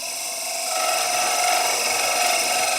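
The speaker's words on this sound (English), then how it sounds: "I'm going to use my beating and parting tool to make that tenon." A parting tool cuts a wood tenon on a lathe while turning an icicle ornament, giving a steady, fairly loud hissing, rubbing whine that swells slightly and holds without a break, with no voices.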